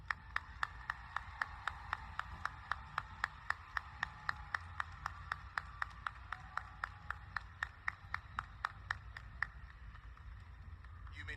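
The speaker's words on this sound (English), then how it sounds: "please join me in a round of applause" Audience at a high school graduation ceremony claps for seniors enlisting in the military, heard as faint, evenly spaced sharp claps in a steady rhythm over a low background hum.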